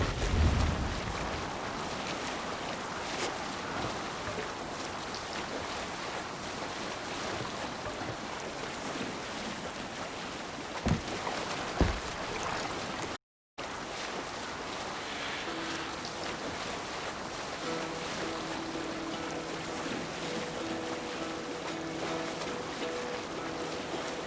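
Viking longship under sail in Assassin's Creed Valhalla, with steady rushing water, wind and creaking hull around a brief thump, a short gap, then calmer sailing with soft music.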